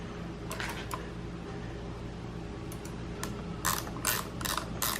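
A ratchet wrench tightening a bolt, quick clicking bursts of the pawl over a steady low mechanical hum, close and moderately quiet.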